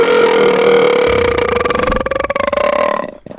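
A man lets out a long, loud, close burp that drones for about three seconds, its pitch wavering and breaking into a rattling croak before trailing off.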